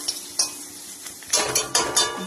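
Dried chilli, bay leaf, cumin and ginger hit hot oil in a pan, crackling and sizzling in bursts, with sharp spatters and a few clinks of a utensil stirring, loudest in the second half.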